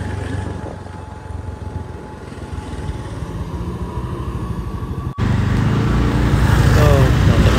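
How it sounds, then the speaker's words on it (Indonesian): Traffic jam on the Padang–Painan road at Barong-Barong Belantai after flash floods and landslides: a steady rumble of idling and creeping cars and motorcycles, growing louder and closer in the second half. "Ini macet panjang di Barong-Barong Belantai."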